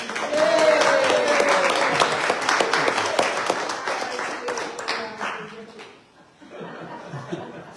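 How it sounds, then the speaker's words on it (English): Audience applause and some laughter greet a speaker at a fellowship service, a dense crowd clapping for several seconds before fading, with a voice breaking in near the end. "So let's give him a big round of applause."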